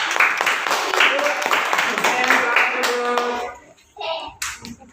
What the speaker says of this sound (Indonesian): tepuk tangan buat kelompok Pesta